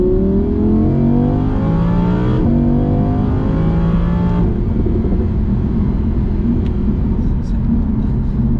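Yellow Audi R8 Spyder engine heard while driving, a loud, continuous roar whose pitch climbs through gear changes, then settles into a steady drone, close and dominant throughout.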